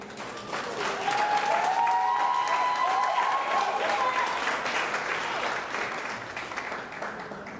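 Sustained applause from an audience at a school event launching a Trinidad and Tobago festival, dense and steady throughout with a few whistled tones and cheers rising over it, tapering slightly toward the end.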